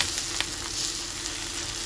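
Five dried red chillies and a piece of ginger sizzle in hot oil in a pan, a steady close-up frying hiss with a few sharp pops, continuous throughout with no talking.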